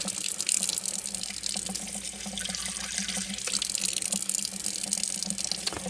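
A steady, close stream of tap water runs without pause, rinsing soap off a guinea pig during a warm-weather bath at a sink, with small splashes and drips over the continuous flow.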